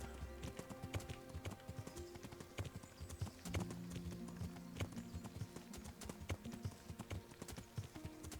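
Rapid, rhythmic clip-clop of horse hooves at a steady trot in the video game Kingdom Come: Deliverance, fairly close, with soft ambient music-like tones underneath.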